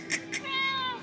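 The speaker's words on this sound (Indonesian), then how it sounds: "Oma ada kucing." A cat at a grandmother's home gives two short chirps, then one longer drawn-out meow, close and clear within about a second.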